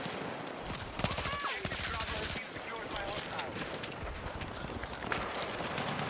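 Battlefield 6 suppressive gunfire crackles in rapid bursts amid dense battle noise, shots overlapping and clustering, with a voice faintly audible underneath.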